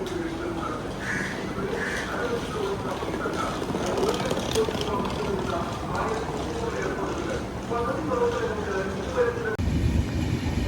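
Passenger train rolling along after departing Alappuzha station, a continuous rumbling clatter of wheels with crows cawing intermittently nearby, and a brief shift in the noise near the end.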